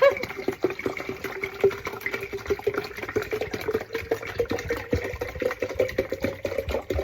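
Warm, sun-infused water pours steadily into a 64-ounce container, a continuous splashing trickle with faint clatter, close by and moderately loud.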